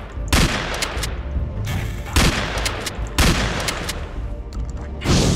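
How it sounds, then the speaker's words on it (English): Exploding shotgun shells going off in a shooting video game, several loud sharp blasts spaced about a second apart, each with a booming crack and a rumbling tail, close and dominant with no speech. "Oh cool, the exploding shotgun shells come out of them."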